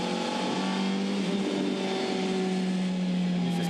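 A GT race car at the Townsville round of Australian GT cruises and short shifts, its engine holding a steady, moderate mechanical drone with a slowly rising pitch, continuous and close, with no sharp revving.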